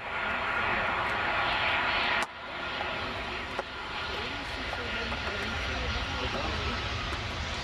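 An aircraft at Luton Airport in Bedfordshire, UK, drones as a loud, steady engine roar that dips sharply partway through, then continues with a brief clack over the sustained noise.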